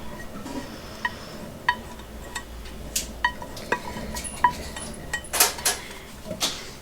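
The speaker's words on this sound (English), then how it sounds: "I'm just taking another spatula and scraping out everything I can that's possible" Spatula scraping donut batter out of a pan, scattered metallic clinks and light scrapes over a faint steady background, spaced irregularly and fairly close, with no one speaking.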